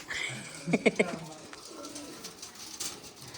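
A pigeon, caught and held up for showing, gives a short run of close, throaty coos early on, with people talking around it.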